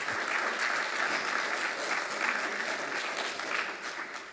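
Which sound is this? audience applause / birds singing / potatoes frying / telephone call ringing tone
audience applause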